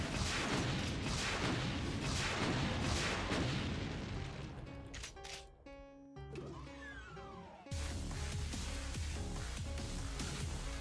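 Rocket fire and booming explosions in Doom with the Brutal mod, a dense roaring barrage that thins into a few distinct blasts and pops, then resumes loudly.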